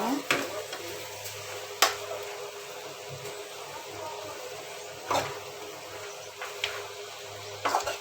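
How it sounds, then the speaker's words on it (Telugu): A utensil scrapes and clinks against a pot of sambar-style curry in irregular strokes, with a soft sizzle underneath. "కలియబెడదామండి"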